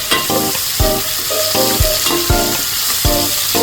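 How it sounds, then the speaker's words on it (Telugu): Gongura leaves fry loudly in hot oil during the making of gongura mutton, a steady sizzle broken by repeated rhythmic scrapes and clanks of a spatula stirring in the pan. "గోంగూర వేస్తున్నాం కదండి ఇది కూడా బాగా వేగాలి"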